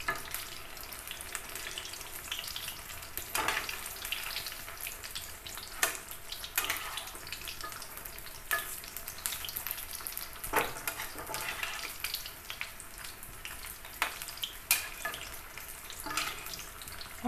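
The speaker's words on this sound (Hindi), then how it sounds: "हाई फ्लेम पर फ्राई करेंगे।" Banana pakora frying in hot oil over a high flame, a steady close sizzle and crackle throughout, broken by occasional clinks and stirring knocks, with no talking.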